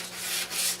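Hand sanding across a wooden ball setter, a steady close scratchy rubbing with slight swells in intensity, heard alone without talk.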